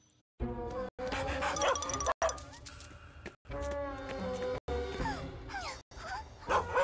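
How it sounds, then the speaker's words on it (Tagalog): A dog barks and yips in a series of bursts, loud and close, with short gaps between them. "Isang aso na serbisyo!"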